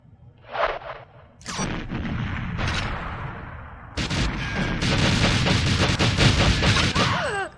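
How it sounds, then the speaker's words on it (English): Gunfire and a drone explosion in the GoldenEye 007 video game, with a burst of shots, then sustained rapid automatic fire and heavy crashing blasts that fill the second half, loud and dense with no talk. "Perfect drone explosion."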